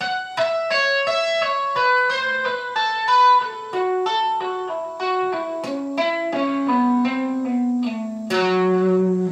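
An electric guitar plays a quick melodic lick, notes ringing with legato hammer-ons and slides, descending gradually in pitch, clean and close.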